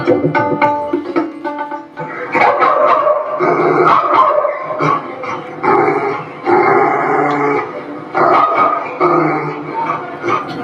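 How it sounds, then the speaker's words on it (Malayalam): A dog barks loudly and repeatedly at close range in daytime, bursts of sharp barks and yips in an irregular rhythm with short pauses between them. "വല്ലാതെ കുരയ്ക്കുന്നല്ലോ ഈ പകൽ സമയത്ത്"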